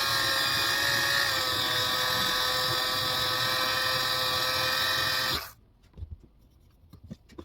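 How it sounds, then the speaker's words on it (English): A power drill spinning a brake hone whirs loudly and steadily for about five seconds, then cuts off abruptly, leaving faint clicks and handling noises. "let's get that brake hone on the drill"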